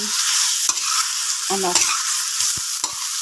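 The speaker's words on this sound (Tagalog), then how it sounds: "Pinigisa ko siya guys para matanggal yung lansa." Fish sizzling and being stirred in a hot pan for a shrimp sinigang, with a steady broadband fry hiss broken by a few scraping stirs and utensil clinks close by.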